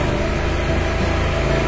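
A motorcycle engine runs with a quiet, low, steady exhaust drone, close and continuous at a constant low rev with no talk.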